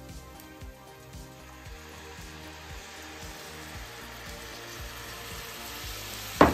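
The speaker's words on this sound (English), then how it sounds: "we're going to add our sweet and sour sauce to our pan" Sweet and sour sauce with browned pork sizzles in a stir-fry pan, a soft continuous hiss under faint background music, with a sharp clatter at the very end.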